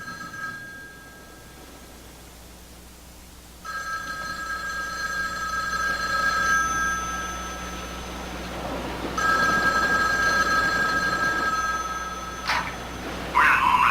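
A home telephone from 1987 rings in repeated electronic bursts over low room hiss before an answering machine picks up, the tones growing louder toward the end.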